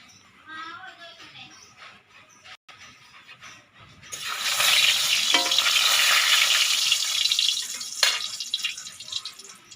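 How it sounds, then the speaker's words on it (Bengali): A fish head rubbed with salt and turmeric drops into hot oil in a pan, and a dense, loud sizzle bursts in midway and holds. Softer kitchen clatter comes before it, and a sharp scrape or clink sounds near the end. "মাছের মাথাটা ভাজা লবো।"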